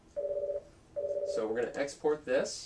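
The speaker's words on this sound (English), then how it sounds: "I apologize about my phone ringing." A phone rings with two steady electronic ring bursts in a home office setting, followed by close speech from someone talking over the end of the ringing.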